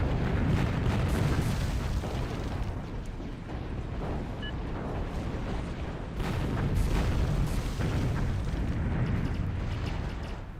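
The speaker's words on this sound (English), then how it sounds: "Not able to get these two explosions from one Trinity." Trinity nukes in the strategy game Zero-K go off in a rolling series of deep, heavy booms and rumbling blasts that swell and overlap across the whole span, loud and with no voices.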